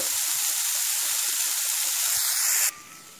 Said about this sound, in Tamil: இது எண்ணெயில் பட்டவுடனே பொரிஞ்சு வரும் பாருங்க